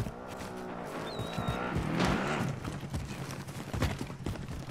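A car driving in a video game, with a steady engine drone, tire noise and scattered clattering thuds over the whole stretch, moderately loud and steady, with no talking.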